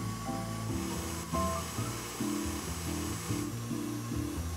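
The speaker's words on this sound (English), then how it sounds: "add 3 ounces of egg whites to the mixer and beat with the whisk attachment on high until soft peaks form" A stand mixer with its whisk attachment whips egg whites on high speed, making a steady motor whir with a pulsing, wobbling hum close by and no voices.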